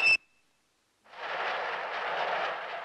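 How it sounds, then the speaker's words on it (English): A cartoon train rushes past after a brief sharp tone and a pause, a steady loud roaring rumble that holds for the rest of the moment. "The train."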